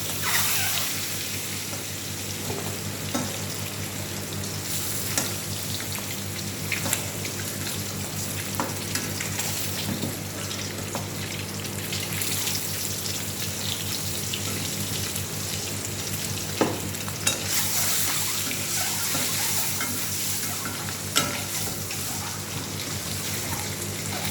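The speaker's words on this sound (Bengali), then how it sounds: "দেখো ডিমটা আমার ভাজা হয়ে গেছে, আমি তুলে নেব।" Turmeric-coated eggs fry in a pan for an egg curry, giving a steady, close sizzle and crackle with occasional louder pops and a few stirring clicks throughout.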